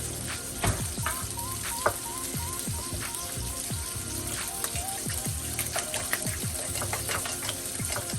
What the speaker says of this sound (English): now what we're going to do is whisk that up with a fork